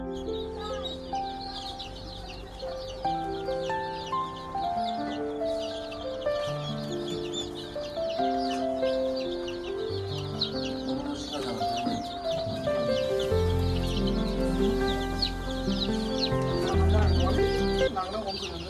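Chickens cluck and fuss close by while being fed grain on a poultry farm, a steady busy chorus of clucks over the whole stretch, with some talk and other farm noise mixed in.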